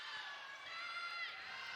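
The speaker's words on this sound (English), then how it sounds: "Nice crowd still filing in here" Crowd noise at a Stanford vs UCLA women's volleyball match as spectators keep filing in: a faint, steady wash of distant chatter and murmur filling the arena, with no single voice standing out.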